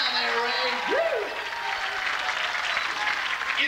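Audience applause greets contestant Ray Caston at the Nintendo World Championships 1990 in Philadelphia, a dense wash of clapping under a brief rising whoop and a voice.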